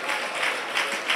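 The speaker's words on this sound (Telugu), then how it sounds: "చప్పట్లు కొడుతూ" A church congregation claps together during worship praise, a steady wash of applause with faint rhythmic swells, moderately loud and heard without speech.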